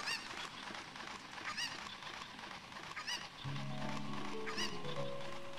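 A cucco chicken in Ocarina of Time lets out three short, squawky clucks spaced evenly apart, while game music fades in partway through.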